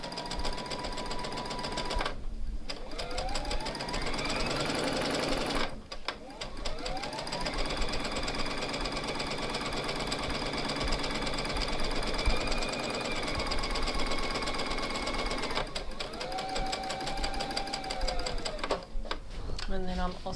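A sewing machine chain-sews garment pieces one after another for New Look 6575, running loud and close in long steady bursts with short stops between, while someone talks over it.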